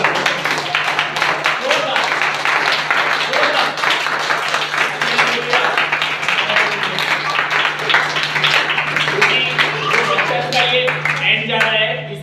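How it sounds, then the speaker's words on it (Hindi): A church congregation at a Sunday service claps together in a steady, fairly loud crowd texture, with a low constant hum running beneath and voices mixed in near the end. "थोड़ा जोरदार ताली बजाइए।"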